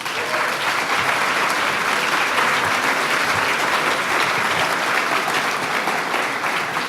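Sustained audience applause after a Fife and Drum Corps performance at an indoor July 4th event at the National Archives, a dense steady clapping crowd at even loudness throughout with no pauses.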